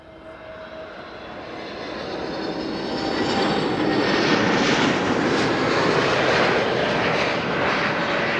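A Transavia Airbus A321neo passenger jet passing near Amsterdam Schiphol Airport on its return flight from Preveza, a steady broadband engine roar that swells from moderate to loud and holds, with no talking.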